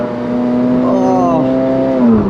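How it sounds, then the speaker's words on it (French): A Ferrari 458 Spider engine holds a steady, smooth tone, then climbs sharply as the throttle is reapplied. It is loud and close, with a voice speaking over it. "quand je réaccélère ça fait BAM"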